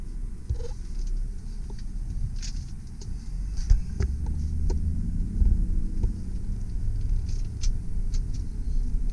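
A 2012 Chevrolet 1500 extended-cab 4WD pickup with 63K miles drives in four-wheel high, heard from inside as a low, steady road rumble with scattered small clicks and rattles and no talking.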